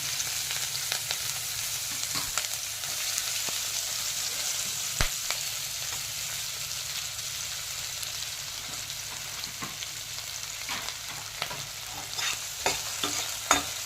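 Onions and green chillies frying in oil left from frying dried fish, a steady low sizzle with intermittent stirring scrapes and taps, fairly quiet and close, no speech.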